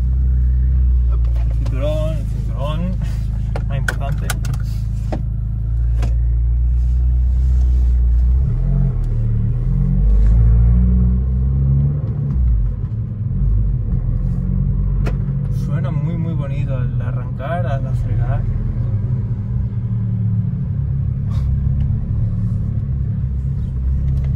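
An Abarth 595 Competizione engine rumbles steadily while driving with the window down, deep and continuous, with road noise and a few brief revving swells; occasional voices murmur underneath.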